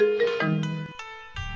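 A mobile phone rings with a short electronic melody of a few bright tones, clear and fairly close, ending in a brief low thump.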